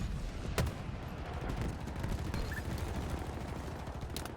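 Sniper rifle fire in a Halo Big Team Battle match, a sharp shot cracking out early over a dense, continuous rumble of gunfire and explosions from the game.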